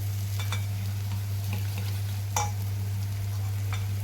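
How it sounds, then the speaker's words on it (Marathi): Spices sauté in oil in a pan for urad dal, a low steady sizzle over a constant hum, with a few light stirring scrapes and one louder clink of the spoon. "छान परतले गेले आहेत आपले मसाले."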